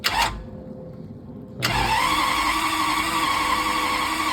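A Jaguar XJS V12 engine, out of petrol, turns over on the starter: a short burst, a pause, then steady loud cranking that continues to the end.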